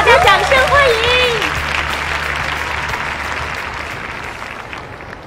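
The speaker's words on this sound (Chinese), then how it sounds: "有请 大家掌声欢迎" Audience applause welcoming a speaker to the stage at a cabin crew competition, starting under a brief voice and then settling into steady, dense clapping that slowly fades.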